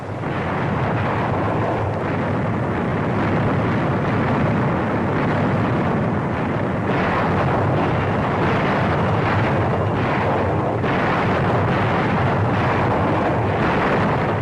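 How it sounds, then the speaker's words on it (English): Distant naval gunfire pounding the Normandy coast during the D-Day invasion bombardment makes a dense, continuous rumbling roar, with heavy booming swells rising and falling across the whole stretch and no clear gaps. "The naval bombardment continues."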